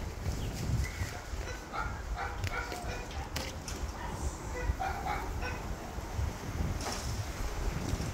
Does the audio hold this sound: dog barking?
yes